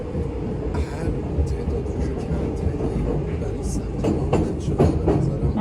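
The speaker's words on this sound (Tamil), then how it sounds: "நாங்கள் இதில் போகிறோம், மெட்ரோவில் போகிறோம்." A New York metro subway train rumbles along with a steady clattering roar and occasional rail squeals close by, while voices faintly talk underneath.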